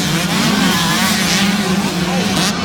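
125cc two-stroke motocross bikes racing at High Point in Mount Morris, Pennsylvania, a loud sustained buzzing engine roar rising and falling as riders rev through the track.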